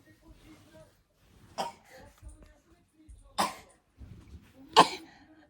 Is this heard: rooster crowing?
no